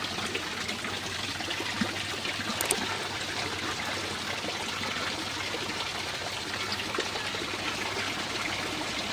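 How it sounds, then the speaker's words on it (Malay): Water pours steadily out of a fish pond filter as a continuous close trickling and splashing flow, even and unbroken for the whole stretch, with no voices. "Kita tengok air keluar."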